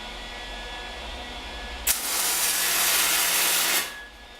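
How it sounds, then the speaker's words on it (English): A welding machine joins a steel table frame: after a low background hum, a sharp start gives way to about two seconds of loud, steady, hissing crackle that then cuts off. "we're gonna weld it up"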